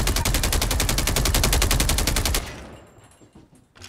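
A deployed sentry gun in Call of Duty fires a long, fast, evenly spaced burst, loud and close, then stops abruptly, leaving fading echoes and faint scattered shots.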